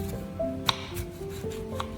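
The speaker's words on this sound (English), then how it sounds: "I slice the lemons into thin rounds." A knife slicing lemons into thin rounds on a board, a few light soft cuts with sharp clicks, quiet and close.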